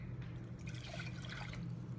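One cup of water poured into a container for homemade wipes, a steady splashing trickle lasting the whole two seconds, close and fairly quiet.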